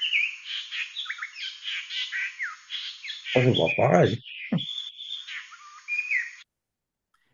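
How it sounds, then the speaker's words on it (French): A Marquesas reed warbler sings a fluty, whistled song of varied repeated phrases, steady throughout, while a person briefly speaks over the middle of it. "je vais vous faire entendre l'autre qui a le chant flûté"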